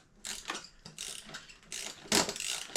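Socket ratchet clicking in quick irregular bursts while Steg Pegz are installed on a Yamaha WR250R motorcycle, close and fairly quiet metallic ticking with short pauses between turns, no voices.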